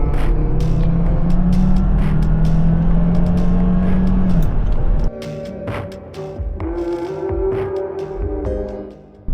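A lifted Volvo XC70 drives along the road, its engine a loud, steady drone with a rising pitch through the first half, then a lower cruising hum with shifting tone as it continues.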